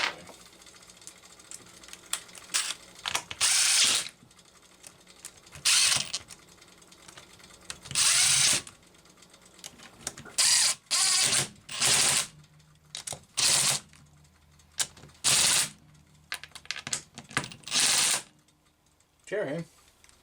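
A power driver tightening bolts on a Homelite Super XL-925 chainsaw, with repeated short whirring bursts of varying length separated by pauses, loud and close.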